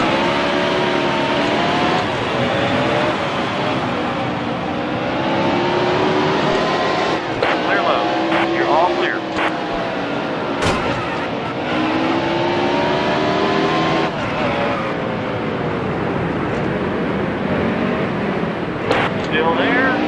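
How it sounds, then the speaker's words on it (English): Race car engines in NASCAR Heat: Evolution roar loudly and continuously as several cars run close together, pitches rising and falling with gear changes, with a few brief sharp bursts and faint radio chatter underneath. "Another thing that struck me as kind of off was the sound of the cars themselves."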